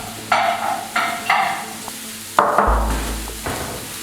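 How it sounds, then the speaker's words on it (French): Carrots dropped into a hot cooking pan, with several sharp clattering impacts and a burst of sizzling as they land, heard close with no talking. "Je mets les carottes qui ont un peu plus de cuisson."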